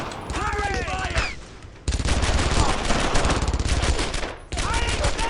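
Heavy machine gun fire and scattered rifle shots in Brothers in Arms: Earned in Blood, a loud, continuous rattling barrage with a brief lull before it resumes, alongside other battlefield noise.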